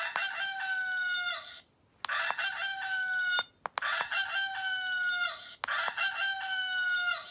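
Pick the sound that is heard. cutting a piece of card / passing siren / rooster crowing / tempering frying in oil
rooster crowing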